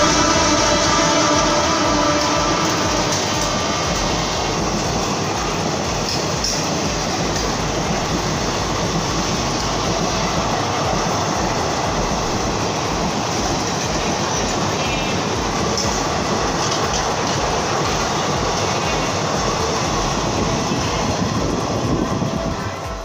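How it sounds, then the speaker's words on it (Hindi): A Jaipur to Agra intercity superfast train runs on the rails, a loud continuous rumble from on board with steady rhythmic clickety-clack of wheels over rail joints throughout, no talking. "2 मिनट बाद ट्रेन यहाँ से चल पड़ेगी"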